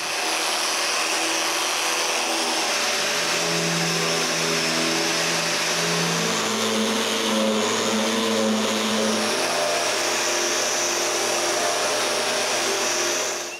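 Linear sander working over wooden drawers for a cottage pantry: a steady, loud, continuous motor whir with a broad hiss that holds evenly throughout, no voices.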